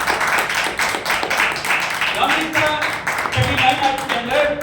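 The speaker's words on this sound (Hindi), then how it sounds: "ताली बजा के प्रभु के नाम की तारीफ करो" A church congregation clapping in praise during a sermon, loud rhythmic hand claps blending into a busy room with voices and music-like tones rising partway through.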